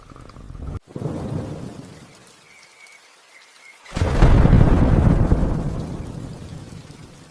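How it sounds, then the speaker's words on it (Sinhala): A heavy rainstorm pours loudly, broken by a sharp thunder crack, a quieter lull and then a deep rolling rumble of thunder under the dense hiss of rain. "වැස්ස නම් අඩුවක් නෑ වගේ."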